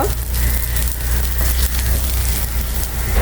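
Cumin seeds and dal tempering spice sizzle in hot oil, a close, steady crackling hiss lasting a few seconds with no talking.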